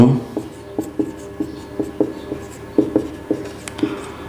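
Chalk or marker tapping and scraping in short repeated strokes on a board, about ten distinct marks, writing out a chemical equation balancing chlorine in a Class 10 chemistry lesson; close and moderately loud, with no speech over it.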